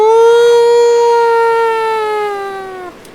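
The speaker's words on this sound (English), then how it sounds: "Oh god, the sirens." A loud siren wails at a race track in Daytona Beach, a single long sustained tone that slowly drops in pitch before cutting off near the end.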